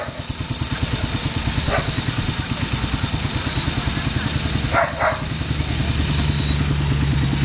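A child's motorcycle engine runs steadily with a low, throbbing rumble throughout, with a couple of brief higher noises briefly rising over it.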